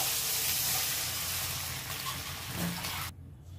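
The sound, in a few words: water added to frying brinjal and potato, sizzling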